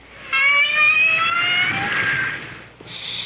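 A whale gives sustained buzzing tones with layered harmonics, then a shift to a higher grating buzz, loud and close with no talk.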